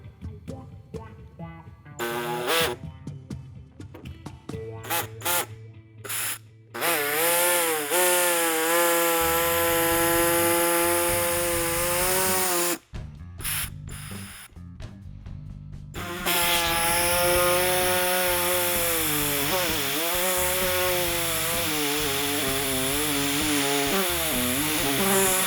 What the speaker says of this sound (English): I'm just going to use a small reciprocating saw